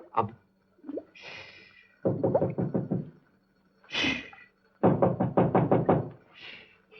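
Knocking on a door in a 1942 film scene, several bursts of rapid knocks repeated in a clear rhythm, with short vocal sounds in between.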